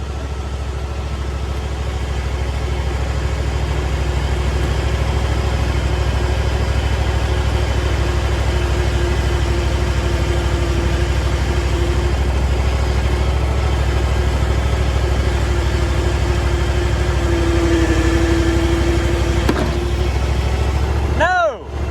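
Oldsmobile 403 V8 runs steadily in a car, a low continuous idle with a faint whine rising near the end, under occasional talk.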